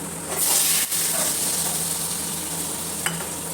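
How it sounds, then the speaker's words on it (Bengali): Poppy seed paste fries in a little oil in a wok with a steady close hiss and sizzle that swells when the paste goes in, plus a faint tap near the end and no voices. "এবার কড়াইতে আমি প্রথমে পোস্ত বাটাটা দিয়ে দিলাম"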